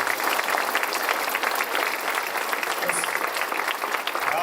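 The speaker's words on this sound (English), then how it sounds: "Let's give these folks a round of applause." Audience applause at a community ribbon cutting for elected officials, a full, steady clapping from a crowd lasting throughout, close and loud.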